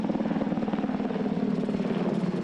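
Osprey aircraft and helicopters passing overhead above a bay make a loud, steady rotor thrum with rapid rhythmic blade pulses that hold throughout.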